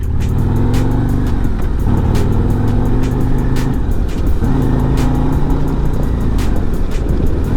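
A 2024 Harley-Davidson Road Glide is ridden on the road in sport mode. A loud, steady engine drone with rising and shifting pitch sits under constant wind rush, recorded from the rider's position.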